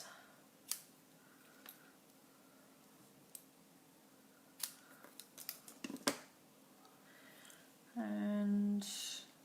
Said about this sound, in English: And then ribbon scissors